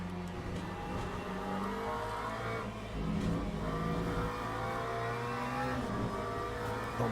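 A race car engine in a racing video game, driving in wet weather and accelerating out of a corner: a continuous, high, strained engine whine that holds loud and steady throughout, with no voices.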